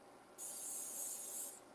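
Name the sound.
cooking spray sprayed lightly into skillet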